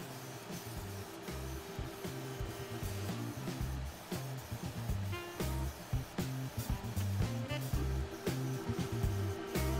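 A spray gun hisses steadily, spraying clear coat on a maple guitar body, under a low, droning machine hum, with brief pauses and restarts as the trigger is released and squeezed again.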